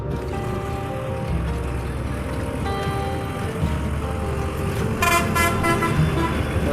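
A bus at the Khulna bus stand pulls away with a steady engine rumble, then a cluster of loud horn toots blares near the end over the traffic noise.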